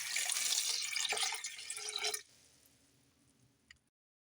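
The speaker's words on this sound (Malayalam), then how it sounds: "പൊട്ടറ്റോ വേവിക്കുന്നതിന് ആവശ്യമായിട്ടുള്ള വെള്ളം ഒഴിച്ചു കൊടുക്കാം." Water pours into a pot of potatoes seasoned with turmeric, set for boiling in a Kerala potato masala fry. A loud, splashing gush lasts about two seconds, then drops to a quieter trickle and fades.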